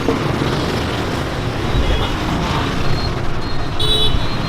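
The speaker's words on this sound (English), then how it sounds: "As you can see, traffic is a little crazy." Busy street traffic in Vietnam rumbles as a dense, continuous wash of engines close by, with short horn toots cutting through near the end.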